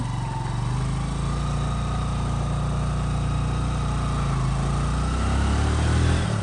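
A motorcycle engine runs steadily on a rural mountain road in Aklan, a continuous low rumble with other vehicle noise, loud and close throughout without speech.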